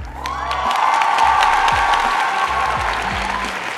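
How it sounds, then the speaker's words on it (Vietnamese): Studio audience at a Vietnamese talk show taping applauds and cheers, a dense, loud wash of clapping that stays steady from start to finish with no talk over it. "Vậy thì bao nhiêu bạn khán giả thường quay yêu thích sự có mặt của Hương Giang ở đây vỗ tay và sáng đèn đi ạ."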